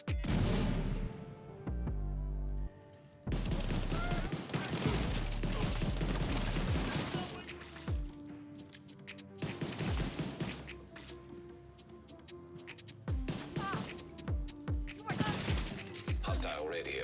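Rifle fire in a fast-paced military shooter game: rapid, close bursts and single sharp shots mixed with clanking mechanical action and crashes, with a voice talking over parts of the clip.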